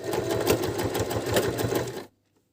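A Janome Q33 domestic sewing machine stitches at steady speed, a close, continuous whirring rattle with a rapid needle rhythm, then stops abruptly into near silence.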